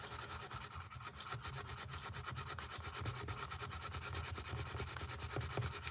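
Prismacolor coloured pencils pressed heavily onto paper in a steady, close scratchy rub that runs continuously with quick back-and-forth strokes, no talking.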